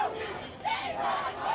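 Hundreds of protesters chant rhythmically during a police raid at Columbia University, a dense crowd sound from a moderate distance with a voice rising over the chanting.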